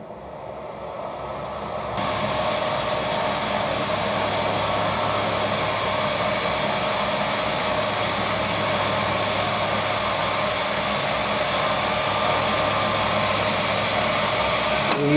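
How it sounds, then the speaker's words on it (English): A machine starts up and runs steadily while countersinking the back face of a dividing head part, a constant whirring, broadband hum that holds evenly at moderate loudness with no talk over it. "I'm now going to countersink this back face so the bolts drop through."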